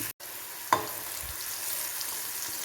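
Bitter gourd pieces fry in hot oil for a pickle, giving a steady close sizzle with one sharp clink near the start and no voices.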